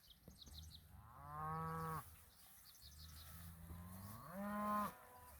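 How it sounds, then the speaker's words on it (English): Calves bawling on a grassy pasture in hot weather, two long drawn-out moos separated by a pause, moderately distant and alone without speech. "Some of the calves are still bawling."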